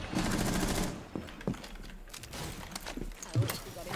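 Gunfire in the video game Rainbow Six Siege: a string of sharp shots and rattling bursts, close and loud, mixed with footsteps, with a voice speaking over it.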